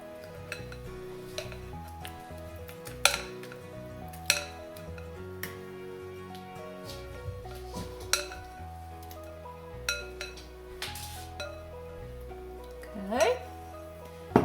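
Utensils clink and scrape against a bowl as banana bread batter is mixed, with irregular sharp knocks over a soft background hum.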